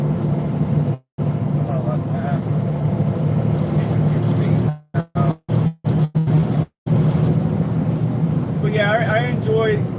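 Kenworth W990 truck heard from inside the cab, a steady low engine drone running throughout with a few brief dropouts, while a voice talks over it.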